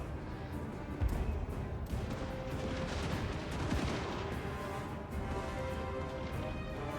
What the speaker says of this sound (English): Can you get some shots on those squigs?